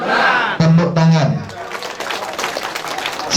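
Crowd applause at a Garda Bangsa PKB gathering in a Temanggung resort. A raised voice comes first, then a broad wash of clapping that keeps going steadily to the end.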